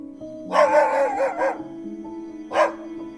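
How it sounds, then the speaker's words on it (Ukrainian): A dog barks in a short cluster of quick yaps, pauses, then gives one more bark, over a low steady hum. "Так, це гавкає собака."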